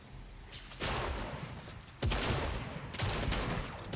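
Fortnite gunfire bursts in a loud, close volley, with heavy shots crashing in at about one second, two seconds and three seconds over continuous rattling fire.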